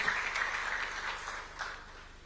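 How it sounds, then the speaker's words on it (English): An audience at a Chief Justices' dispute resolution summit in Nairobi claps to welcome the Chief Justice, a faint, distant spatter of applause that thins out toward the end. "Why don't we welcome her with a warm clap?"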